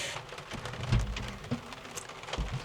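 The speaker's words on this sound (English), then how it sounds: "it is currently pouring with rain" Heavy rain pours steadily onto a sailboat, a dense close hiss with scattered louder drops and thuds striking the deck and cabin, heard alone without voices.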